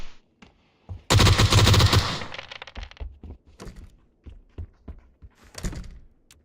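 Gunfire in the video game PUBG: a loud sustained burst of automatic fire lasting about a second, followed by scattered thuds and sharp cracks, with no talking.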